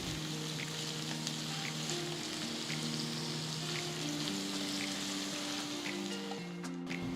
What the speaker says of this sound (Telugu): రెండు పొడవగా కట్ చేసుకున్న ఉల్లిపాయ ముక్కలు వేసి గోల్డెన్ బ్రౌన్ కలర్ వచ్చేంత వరకు వేయించుకోవాలి